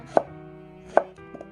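A knife chops Asian pear on a cutting board for kimchi, three distinct crisp strokes spaced under a second apart, close and clear with no talking.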